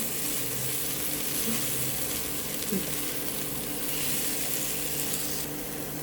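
Masala paste for a duck curry fries steadily in a modest amount of oil, a continuous close sizzle with soft scraping stirs and faint watery clinks throughout.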